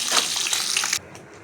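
An egg drops into hot oil and fries with a loud, broad hiss and sizzle that cuts down abruptly after about a second to a softer crackle.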